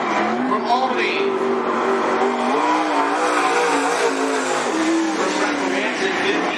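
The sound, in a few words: late model race car running a lap at Cottage Grove Speedway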